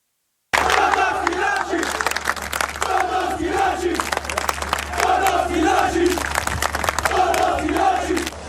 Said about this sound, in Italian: si alza il coro dei tifosi della curva nord del Palermo, da brividi